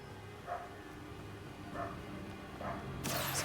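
Three or four soft barks from a dog in the video game Hogwarts Legacy, evenly spaced over steady background music, with a brief bright burst at the end.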